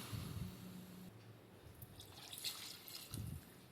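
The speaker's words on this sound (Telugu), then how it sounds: "ఒక 5 గ్లాసులు వాటర్ అన్నా పోసుకొని" Water pours into a cooking pot in a home kitchen, a soft steady trickle and splash with a couple of gurgling bursts near the start and end, close and fairly quiet, with no talking.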